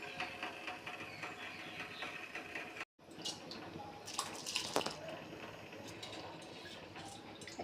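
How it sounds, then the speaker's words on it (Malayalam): Water with ginger, garlic and green chilli heating toward a boil for egg biryani rice, a faint bubbling and dripping wash at close range with a short break and some clatter. "വെള്ളം ഏകദേശം തിളച്ച് തുടങ്ങിയിട്ടുണ്ട്."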